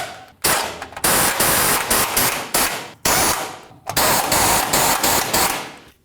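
Bracket bolts on a 2002-09 Dodge Ram 1500 sway bar get snugged with a power tool, giving bursts of loud rattling buzz separated by short pauses, up close and with no speech.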